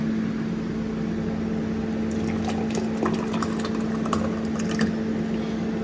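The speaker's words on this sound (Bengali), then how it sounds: "এয়ার ফ্রায়ারে হচ্ছে চিকেন।" An air fryer cooking chicken in a home kitchen gives off a steady, close mechanical hum with a constant low tone and fan whir, running continuously, with faint clinks and small sounds over it.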